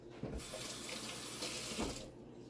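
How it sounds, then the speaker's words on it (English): Tap water runs into a kitchen sink while a knife is rinsed under it, a loud continuous close splashing rush with slight changes as the blade moves through the stream, then easing off at the end. "Wash my knife."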